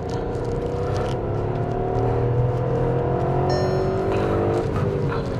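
Skoda Kylaq compact SUV with a 1.0-litre turbo petrol engine and manual gearbox making a sharp turn, its steady engine drone and road noise loud and continuous throughout, with faint tyre scrub.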